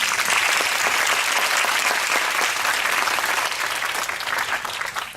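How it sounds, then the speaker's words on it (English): Audience at a medical conference opening applauds, a loud, dense burst of clapping that holds steady, then begins to thin toward the end. "So can we have a round of applause for them,"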